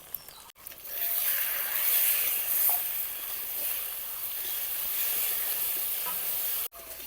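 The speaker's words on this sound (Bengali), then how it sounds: "মশলাগুলো অল্প সময় বাজিয়ে নিলাম" Tomato, cumin, ginger, fennel, green chili paste, chili powder, turmeric and salt frying in a pan for a fish curry, a steady bright sizzle with light stirring, cut off abruptly at both ends.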